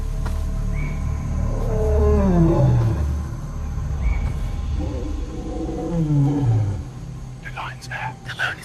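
A lioness roars in the African wild: two deep, drawn-out descending roars a few seconds apart, loud and fairly close, with people whispering faintly around them.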